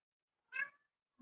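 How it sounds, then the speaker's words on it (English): A single short meow from a cat, faint and close in an otherwise quiet room, followed by a brief low thump at the end. "A very affectionate, very loving cat."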